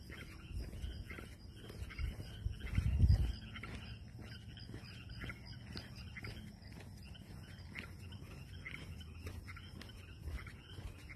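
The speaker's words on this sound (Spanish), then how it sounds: "Son como ranas, ¿no? Sí, ranas. Grillos." A night chorus of crickets and frogs, steady rhythmic chirps and croaks pulsing softly in the distance.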